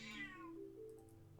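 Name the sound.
cat meowing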